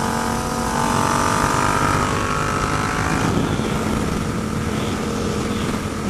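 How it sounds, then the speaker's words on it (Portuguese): A Yamaha MT-07 motorcycle climbing a mountain road, engine droning steadily and fairly loud with a thin ringing whine attributed to a belt, with no talk over it. "A moto tá com um barulho, cara. Não sei se a correia tá muito esticada."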